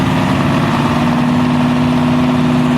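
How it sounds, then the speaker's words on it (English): A Chevy Chevelle drag car idles at the start line of a drag strip, its engine a loud, steady, close-up rumble throughout. "the beautiful Chevy Chevelle pulling up on the Pertex side of the racetrack"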